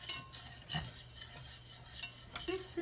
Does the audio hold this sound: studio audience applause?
no